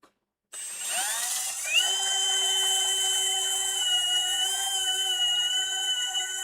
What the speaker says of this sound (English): I'm just sanding in reverse here.